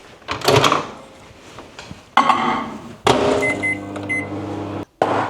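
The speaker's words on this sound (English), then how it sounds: "I'm going to microwave this so it kind of makes a compote kind of style vibe" A microwave oven defrosting mango hums steadily after a few clunks of the door and buttons, with a couple of short beeps near the end before it stops.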